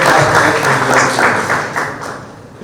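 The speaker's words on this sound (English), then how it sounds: "Let's give a huge round of applause for ourselves." Applause rings out from an audience at an Engineers Day college event, a loud dense burst of clapping that gradually tapers off over a couple of seconds.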